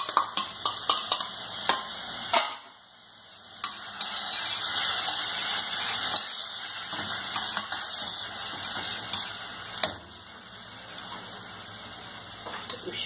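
A tomato sauce with língua de vaca (Talinum paniculatum) sizzles and fries in a pan while being stirred, with scraping and bubbling close up and a brief quieter gap partway through.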